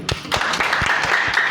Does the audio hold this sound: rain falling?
no